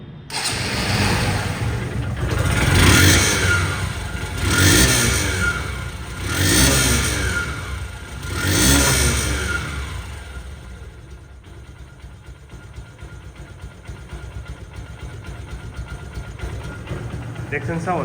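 A Honda SP Shine motorcycle engine revved close up in four rising and falling bursts, then settling into a steady idle for the remaining seconds, with a person talking during it.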